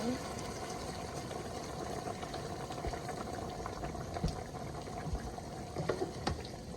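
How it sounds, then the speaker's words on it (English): Water poured into a pot of cooking oxtail, a steady splashing and bubbling rush that runs throughout, with a few clinks over it. "So water is ready guys. We're gonna just add water."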